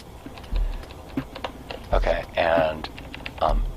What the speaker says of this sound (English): I'm typing it again because I think this is my penance.